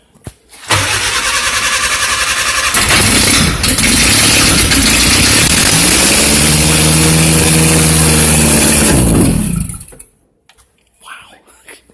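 A 1954 Willys Jeep CJ3B engine cranks on choke for a couple of seconds, fires and runs loudly nearby with an uneven idle before being shut off, leaving faint murmuring voices afterward.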